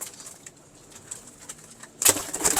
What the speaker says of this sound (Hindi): ए फहीम भाई दे बहुत पेटेंट कबूतर ने